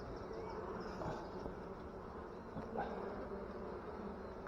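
Honeybees buzz around a hive frame during a quick late-June hive inspection, a steady, dense hum of many insects close by with no voices.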